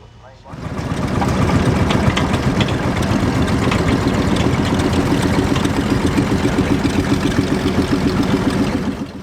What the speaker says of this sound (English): here's a tractor I've never seen before